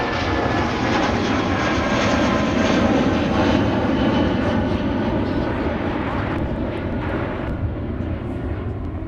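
A jet airliner taking off at Minneapolis–Saint Paul airport on a windy day gives a loud, steady, broadband engine roar that holds strong and close for the whole stretch, with no talk over it.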